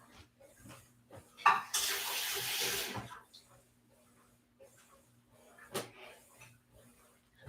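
A kitchen tap runs into the sink in a short steady gush lasting about a second and a half, surrounded by quiet clatter and a sharp knock of kitchen handling.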